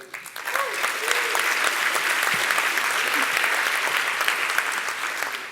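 Attendees at an evening talk session clap together as a show-of-hands style vote, producing a steady, even wash of applause lasting about five seconds, with faint voices underneath.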